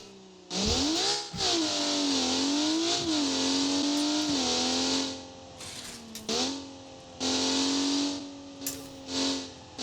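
A car engine in BeamNG revs repeatedly up to 8,000 RPM, climbing and dropping in pitch in several bursts separated by short pauses, loud and close.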